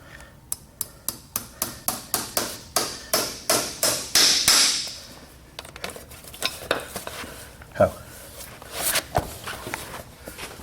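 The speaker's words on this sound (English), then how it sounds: "Kirkhart 7-ounce driving hammer." Steady, evenly spaced strikes of a Kirkhart 7-ounce driving hammer ring out, about a dozen sharp metallic taps nailing a horseshoe onto an event horse, followed by scattered quieter knocks and clinks.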